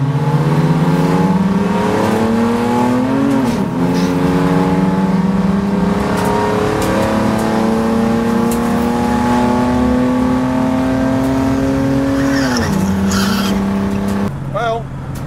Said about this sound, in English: It actually turned the tyres off the line because it didn't do a skid.